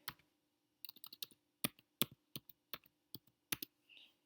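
Computer keys click in short bursts as a username and password are typed in, quiet and close, with brief pauses between groups of keystrokes and no talk.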